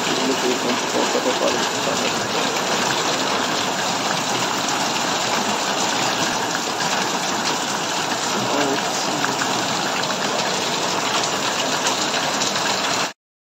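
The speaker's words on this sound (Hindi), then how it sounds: "प्रबल वर्षा" Heavy rain pours down steadily and loudly throughout, a dense continuous wash of falling water on surfaces with no break until it cuts off at the end.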